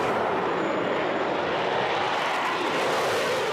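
Concorde jet engines roaring at full throttle on takeoff, a dense, steady, loud broadband roar with a rumbling low end, heard from behind and without any voices.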